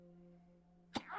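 A single sharp sneeze bursts out near the end after a quiet stretch with a steady hum, loud and close, followed by a brief trailing noise.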